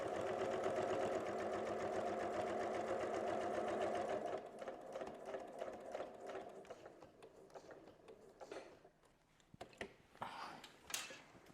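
A sewing machine quilts along a seam line in a steady, fast whir of stitches for about four seconds, then slows to shorter, uneven bursts of stitching with mechanical clicks as the fabric is turned.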